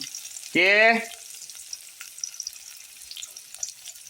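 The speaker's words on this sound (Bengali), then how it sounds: "এখন এই যে পেঁয়াজ দিলাম, একটু মরিচ দিলাম" Onion and chili fry in a pan with a faint, steady sizzle, opened by a brief high whining squeal near the start.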